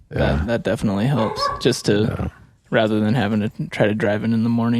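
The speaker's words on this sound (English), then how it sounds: "Sorry for the barking in the background." An old cockapoo barks intermittently in the background, its yips partly buried beneath a man's close, continuous conversation.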